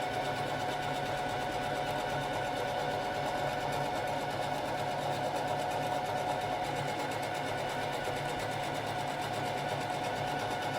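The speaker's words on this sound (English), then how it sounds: "So I'm just going to sew along this line that I traced." Sewing machine stitching along a traced line on tote bag fabric, a close, steady, rapid mechanical whir and needle clatter running without a break throughout.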